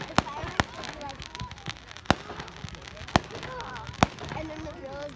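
Fireworks burst at a 155th Canada Day celebration in Summerside Meadowgate in 2022, with about six sharp, loud bangs spaced irregularly over a steady crowd murmur while people talk nearby.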